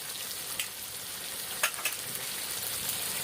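Mutton kosha sizzles steadily in hot oil with whole garam masala as it is stirred, a continuous close frying hiss broken by a few sharper scraping stir clicks.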